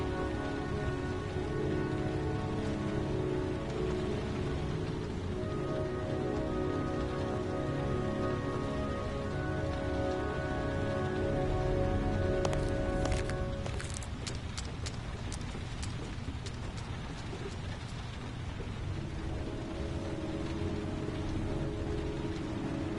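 Steady rain falls in the video game Heavy Rain, a dense continuous hiss of drops on surfaces, with a brief cluster of sharper splatters and knocks partway through.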